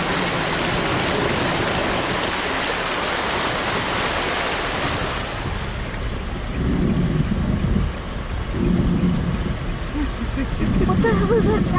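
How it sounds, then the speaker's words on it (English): Floodwater surges loudly against a car and its engine, a heavy continuous rushing wash that eases, then returns in rougher pulses near the end, with a voice faintly audible underneath. "That's the water hitting the engine."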